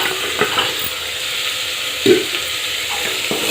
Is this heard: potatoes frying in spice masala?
yes